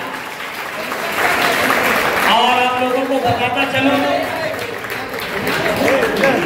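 Audience applause at a school annual sports day, a sustained crowd of clapping hands running throughout while someone talks over it through a loudspeaker.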